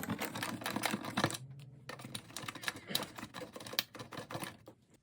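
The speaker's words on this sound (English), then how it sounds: "I need to take this screw out." Unscrewing a screw from a Nutone bathroom exhaust fan: a close series of dry clicks and scraping taps runs almost continuously, with a brief pause partway through and no talking.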